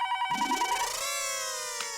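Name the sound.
telephone ringing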